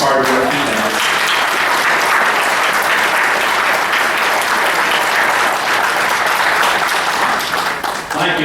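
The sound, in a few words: round of applause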